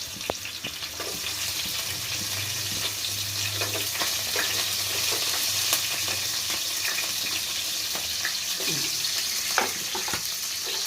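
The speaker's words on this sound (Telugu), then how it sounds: "ఇప్పుడు అల్లం వేగిందండి వేగిన తర్వాత ఉల్లిపాయ ముక్కలు ఉన్నాయి ఇక ఉల్లిపాయ ముక్కలు వేస్తున్నాను" Onion pieces frying in peanut oil in a pan after ginger, a continuous close sizzle with occasional stirring clicks and scrapes, no one speaking.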